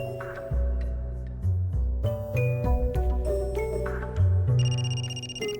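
A phone ringing during a cutscene in the video game Another Code R, with a repeating electronic ringtone melody over a low musical score, steady and moderately loud throughout with no talk.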